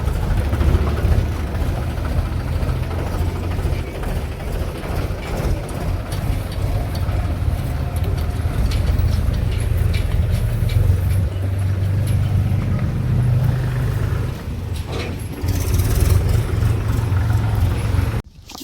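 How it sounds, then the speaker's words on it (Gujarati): A tractor engine runs steadily at a brick kiln in the morning, a loud, continuous low rumble that holds nearly constant throughout before cutting off abruptly at the very end, with no talk over it. "દેવાભાઈએ ટ્રેક્ટર ચાલુ કરી દીધું છે"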